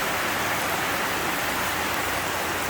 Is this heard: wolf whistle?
no